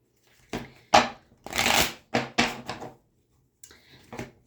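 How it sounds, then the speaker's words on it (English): Playing cards are shuffled at a kitchen table in several quick riffling bursts with short pauses between them. The shuffles sound close and soft, with no talking. "I am shuffling your cards"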